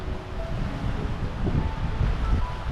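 Night wind rushes outdoors in a low, steady gust that rumbles against the microphone, with no talk.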